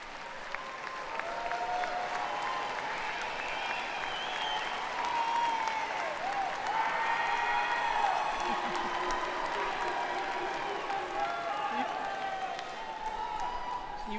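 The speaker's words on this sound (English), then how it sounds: "Please stand up and give an applause to your family and friends." A commencement crowd claps steadily for family and friends, a dense sustained wash of applause filling a large hall for the whole stretch, with faint voices mixed in.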